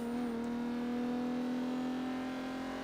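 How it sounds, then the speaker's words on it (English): Alfa Romeo 8C Competizione in the Forza Horizon 3 racing game holds a steady, droning engine note at constant revs, loud and continuous with no talk. "this car, even though it's a little 4-cylinder, might be a straight 6, but it sounds really good"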